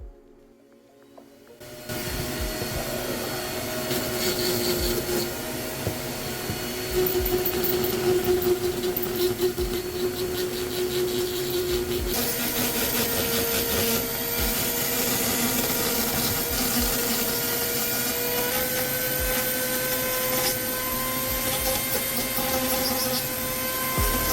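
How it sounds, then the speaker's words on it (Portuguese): Steady abrasive rubbing of sandpaper over a papier-mâché wizard staff, smoothing it toward a polished, worn-wood surface; a continuous close, even scratching texture with no talk. "Depois de lixar bastante"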